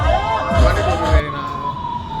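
An ambulance siren wails amid heavy morning traffic, the warbling tone rising and falling steadily over the rumble of engines, with a loud low thump partway through.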